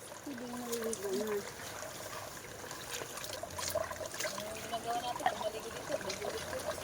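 Water pours and trickles at a well during an outdoor bath in hot weather, faint and splashing unevenly while a person talks over it.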